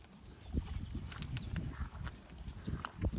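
Hooves of a young mare, shod in front, clip-clop on hard ground in a rural horse-trading setting in Ukraine's Stryi region, a close, uneven series of sharp knocks with faint background noise and no talk.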